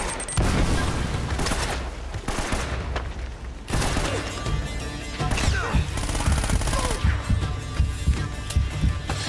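Dense, continuous gunfire in Uncharted: Drake's Fortune, with rapid overlapping shots and booming hits filling the whole stretch, loud and close, with faint talk mixed in.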